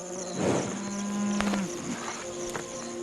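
A cow gives a short low moo near the start, with flies buzzing and faint farm ambience continuing around it.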